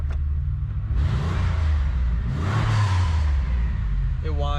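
A car engine in a GTP revs and whines loudly, the pitch rising and falling over a heavy rumble, with people talking over it.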